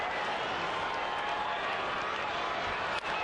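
A lively ballpark crowd at a Colorado–San Francisco baseball game keeps up a steady roar of cheering and chatter, with a broadcaster's voice over it.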